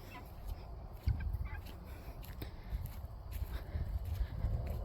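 Chickens scratching through a compost pile scattered with shredded paper give off soft, low clucks and rustling, with a few sharper calls over steady close background noise.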